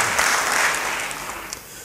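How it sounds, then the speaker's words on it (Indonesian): A church congregation applauding steadily, a dense wash of clapping filling the whole moment without voices over it. "Beri tepuk tangan bagi dia."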